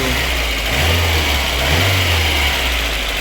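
A VAZ 2114 car engine, freshly rebuilt after a full overhaul with valve clearances adjusted, idles on LPG gas with a steady, close low rumble and slight rise in revs midway.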